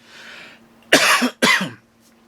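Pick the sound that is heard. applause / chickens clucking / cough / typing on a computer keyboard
cough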